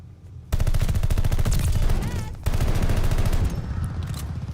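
Rapid automatic fire from an Automaton Versailles gun in a video game, a loud, close, continuous burst with a brief pause midway before firing resumes, with no talk.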